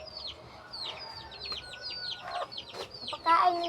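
Chickens in a pen cluck and squawk close by, a busy overlapping chatter of short calls with a louder squawk near the end.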